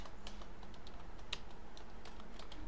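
Rapid, uneven keystrokes on a computer keyboard while an SQL query is typed, light close clicks in quick bursts with short pauses, no voices.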